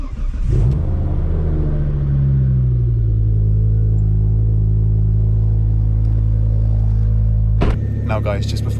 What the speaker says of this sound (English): cold starts in these cars are savage